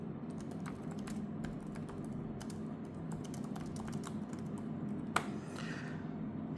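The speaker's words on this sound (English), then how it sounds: "So let me type something." Keys clatter in a quick, uneven stream on a Lenovo ThinkPad P1 Gen 7 laptop keyboard, light precise taps over a low room hum, with one sharper click near the end.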